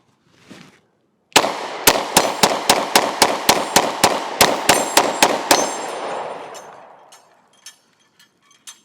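A Glock 20SF 10mm pistol fires a rapid string of about twelve sharp, evenly spaced shots, loud and close, each one cracking and echoing, with scattered metallic clinks after the burst ends.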